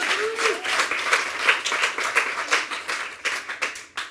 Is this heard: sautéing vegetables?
no